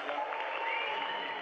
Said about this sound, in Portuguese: Uma salva de palmas que meu parceiro merece